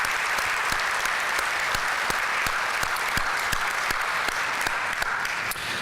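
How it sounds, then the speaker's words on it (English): Sustained applause from a large audience at a tourism awards ceremony in Springfield, Illinois, a steady dense wash of clapping with sharper individual claps standing out, continuous and even throughout. "hopefully we can give a round of applause to Gina Gimberling, her entire team"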